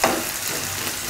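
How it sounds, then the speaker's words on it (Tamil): A large chopped onion sautés in a pan for brinjal gravy, giving a close, continuous sizzle with faint stirring. "ஒரு பெரிய வெங்காயம் எடுத்துட்டு நல்லா வதக்குங்க"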